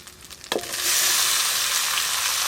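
Fried vegetables drop into a pan of turmeric, ginger and cumin paste, setting off a loud, steady sizzle that swells after a brief clatter and holds close up, with no talking.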